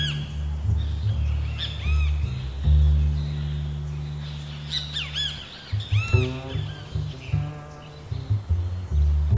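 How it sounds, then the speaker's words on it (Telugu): Great kiskadee calls ring out in a series of loud, bright chirps and rapid trills, with other birdsong overlapping against a steady low background hum. "ఈ గ్రేట్ కిస్కడీస్ అనేటువంటి పక్షులు చేసే సౌండ్ని ట్రిల్ అంటారు"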